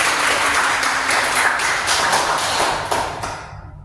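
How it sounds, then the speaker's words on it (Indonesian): A classroom of students claps together in a dense burst of applause that holds steady and then tapers off near the end, with no talking over it. "Oke, tepuk tangan dong buat kalian"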